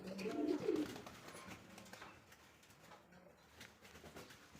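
A Maltese pigeon at a pigeon sale gives a soft, low coo near the start, then faint background sounds follow.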